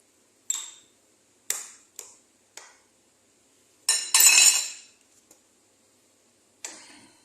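A large metal spoon knocking against a cooking pot, a handful of sharp, bright clinks spaced irregularly, with one longer scraping rattle in the middle, close and loud in an otherwise quiet room.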